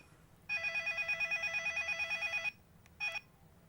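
A telephone rings with a fast warbling electronic trill for about two seconds, then starts a second short ring that breaks off, clear against a quiet background.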